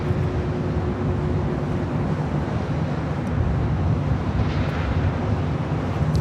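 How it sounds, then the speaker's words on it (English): Steady broadband roar of a 31-year-old Western Global Airlines Boeing 747-400 on short final to runway 25L at LAX, loud and continuous throughout with a faint whine on top, mixed with traffic and wind noise. "Western Global Airlines Flight 6262 coming in from Anchorage at a 747-400."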